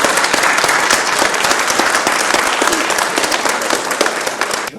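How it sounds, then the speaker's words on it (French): A hall full of people from Roche applauding visitors from Saint-Renan at a welcome gathering, loud, dense and sustained clapping from start to finish. "je demanderai aux Rochois d'applaudir les Rhénanais"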